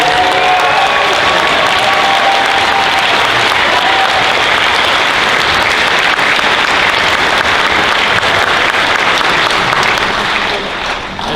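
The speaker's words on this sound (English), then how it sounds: "let's just do one last catch-all round of applause." Loud, continuous applause with some cheering from a convention audience at an anime convention's closing ceremony, a dense wash of clapping that stays full and close before tapering slightly at the very end.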